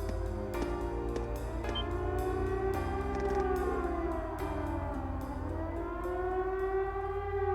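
A wailing siren in the video game Trails of Cold Steel rises and falls in long sustained tones, loud and continuous with layered pitches throughout.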